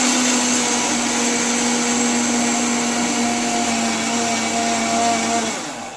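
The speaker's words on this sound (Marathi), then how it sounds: "आता झाकण लावून हे सर्व मिश्रण एकदा मी मिक्सरला फिरवून घेणार आहे" A mixer grinder whirring at full speed as it grinds rava and milk powder, a loud, even motor whine that holds steady and then winds down near the end.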